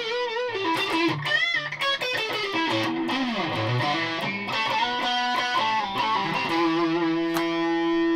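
A distorted electric guitar plays a sustained, crunchy line with bends and chords, ending on a held note, loud and continuous with no voices.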